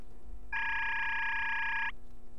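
A buzzy, droning text-scrolling effect from the Deadly Premonition video game, one sustained nasal tone lasting over a second over quiet background hum.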